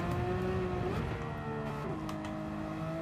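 A Porsche race car in a racing video game laps Suzuka Circuit in a European Clubman Cup 600 race, its engine droning close and steady with pitch shifts as it sheds and gains revs, tyres faintly sliding.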